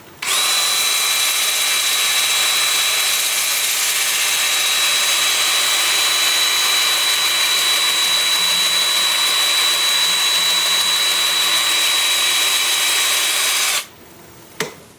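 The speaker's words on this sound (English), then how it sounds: "with the lathe spinning forward at about 390 RPM" Wood lathe turning a sycamore blank forward at about 390 RPM, a steady loud motor whine with a constant high tone and broadband hiss running nearly the whole time, then cutting off abruptly near the end.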